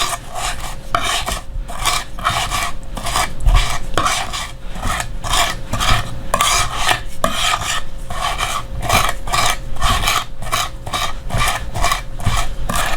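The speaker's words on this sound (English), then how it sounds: "you can just put the salt and then crush it and slide" Steady, rhythmic scraping and grinding strokes of garlic being crushed with salt on a board, repeated many times at a quick, even pace, close up with no talking.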